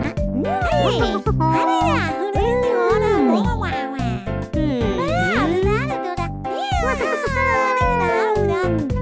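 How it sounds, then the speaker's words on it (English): Cartoon cat meows sound over upbeat music in a kids' early math game with food and animal words, several meows clear and loud across the clip. "Cat."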